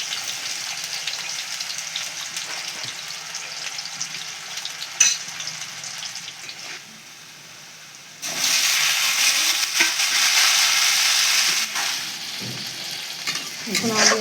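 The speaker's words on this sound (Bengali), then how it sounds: "এখন আলু আর বেগুনটাকে ভালো করে ভাজা হচ্ছে" Cut potatoes and eggplant fry in mustard oil in a kadai, giving a steady crackling sizzle that swells loudly about halfway through, with occasional stirring clinks and no talk.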